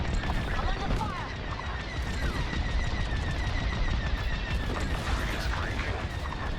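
Starfighter blaster fire during a space dogfight in Star Wars: Squadrons, dense rapid bursts layered over a constant engine roar and explosions, loud and continuous, with a voice speaking over the combat.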